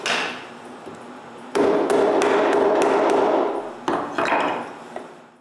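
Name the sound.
hand tools removing waste wood from dovetail joints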